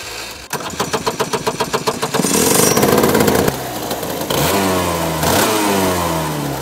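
A two-stroke Alpha X30 kart engine, about 30 hp, cranks with rapid rhythmic pulses, then catches and revs loudly, dropping and climbing again through several sharp throttle blips, close and alone.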